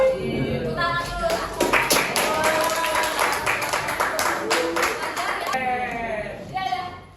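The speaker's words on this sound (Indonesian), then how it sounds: "Tepuk tangan dulu." Classroom students clapping together at a teacher's request during a civics lesson, a sustained burst of applause with scattered taps and some voices, lasting several seconds and fading near the end.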